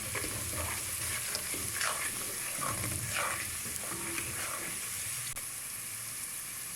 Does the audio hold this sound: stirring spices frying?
yes